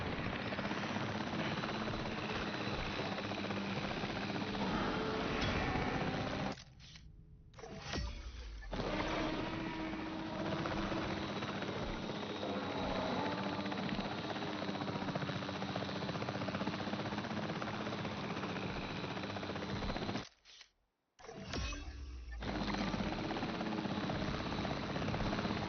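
A helicopter in the video game Jurassic World Evolution 3 gives off a steady, loud rotor-and-engine drone that runs throughout, cutting out briefly twice.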